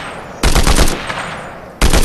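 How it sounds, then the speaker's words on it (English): Two loud bursts of rapid video-game gunfire, one lasting over a second and another starting near the end, after a quiet ambient pause. "Where are those shots coming?"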